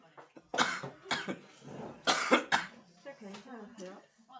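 Repeated coughing and throat clearing from a teacher in a Korean high school social studies classroom, several harsh bursts in uneven rhythm, close and fairly loud, with some vocal sounds mixed between the coughs.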